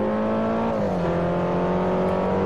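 Race car engine in Forza Motorsport 4 on Xbox 360, a steady loud drone with harmonics that dip slightly as the car eases off for a corner, then hold a constant pitch, no voices.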